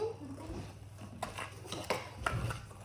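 Deep dish cookie cake dough being mixed in a bowl, soft scraping and light clinks of a utensil against the bowl, quiet and close, with faint talk in the background.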